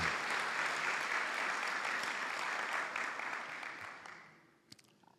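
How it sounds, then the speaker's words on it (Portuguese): An audience applauds steadily at an award ceremony for the Farroupilha Medal of Merit, a dense clapping wash that holds evenly and then fades out over the last second, with a few isolated claps at the end. "eu peço uma salva de palmas para o Antônio Augusto Caliamara"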